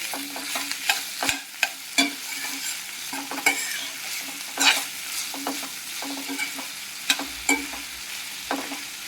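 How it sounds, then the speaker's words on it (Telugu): Borbati beans frying with salt in a pan are stirred with a utensil, giving repeated scraping clicks and soft sizzle in a steady rhythm, close and fairly loud with no talking. "వేసి ఒకసారి మొత్తం అంతా కూడా బాగా కలుపుకోండి"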